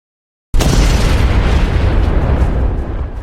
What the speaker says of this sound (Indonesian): sang kapten menjatuhkan bom nuklir.